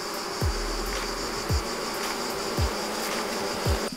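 Honey bees swarm around an open hive in a steady, dense buzz, with individual bees droning past up close about once a second.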